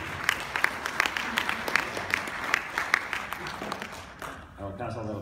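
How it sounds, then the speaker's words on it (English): Audience applause at a San Diego Comic-Con 2016 panel for Diamond Select Toys, scattered clapping from a crowd that thins out and fades toward the end as a voice begins talking. "I'll pass all that applause along to the DST staff"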